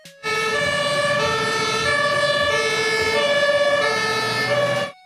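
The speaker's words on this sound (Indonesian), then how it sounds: "di sini ada mobil pemadam kebakaran" A toy fire truck's electronic siren wails steadily and loudly at close range, cycling its tone without pause for about five seconds before cutting off.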